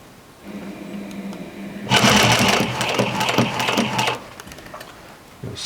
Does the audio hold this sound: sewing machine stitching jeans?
yes